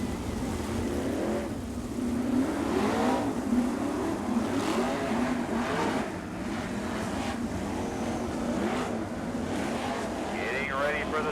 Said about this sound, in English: 4 wide as they come down the front stretch. 24 cars strong for the 40 lap All-Star Sprint Car feature.